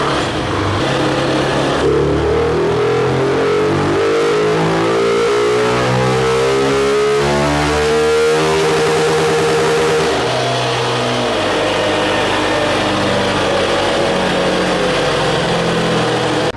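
Honda CG 160 motorcycle with a performance camshaft pulling hard on a dyno, a loud, sustained engine roar climbing steadily in pitch through the gear before dropping back, with no talking over it.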